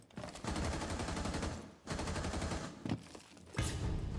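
Loud, sustained bursts of automatic gunfire in the video game Rainbow Six Siege, three long volleys separated by brief pauses, close and dense.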